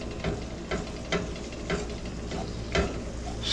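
Ground beef and bacon fry in a pot over a campfire, a steady close sizzle broken by a few crisp stirring scrapes at intervals, with no voices.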